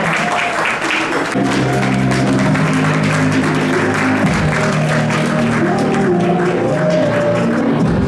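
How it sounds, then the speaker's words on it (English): Steady applause from an audience at an awards gala fills the clip, with sustained music or tones running underneath from about the middle onward. "Another round of applause for Dr. Claire Nelson."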